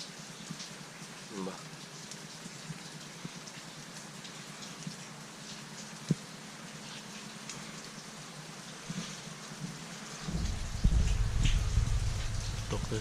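Steady rain falling over rice fields among mountains on a misty morning, a broad even hiss throughout, with a heavier low rumbling wash of downpour building in the last few seconds.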